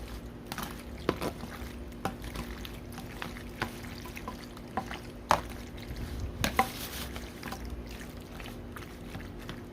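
Pizza casserole ingredients being mixed in a dish, soft scraping and squelching stirs with occasional sharper clinks of a utensil against the bowl, quiet and intermittent.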